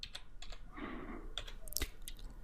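Computer keyboard typing a git command, a quick run of light close key clicks spread across a couple of seconds, quiet and alone.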